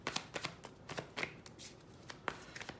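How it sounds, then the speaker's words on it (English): Tarot cards being shuffled by hand, a quick series of close, crisp riffling and slapping bursts with short gaps between them. "by the way that I shuffle and pull your cards"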